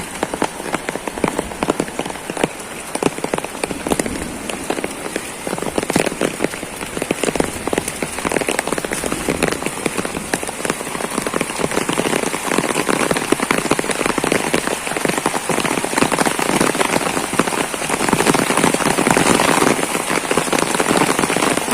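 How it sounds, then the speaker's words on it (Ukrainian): Steady downpour patters on leaves and ground in a garden in Kyiv Oblast, Ukraine, a dense, continuous hiss with scattered nearer drops, fairly loud and unbroken throughout. "Знову починається дощ."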